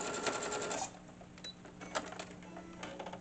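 A sewing machine stitches fabric for a tea bag wallet in quick mechanical bursts, a dense rattling run that stops, followed by shorter clicks and stutters of the needle.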